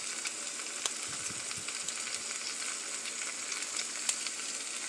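Garlic sizzles steadily in a hot pan while chicken leg quarters are being cooked, a close, even crackle broken by a few sharp pops.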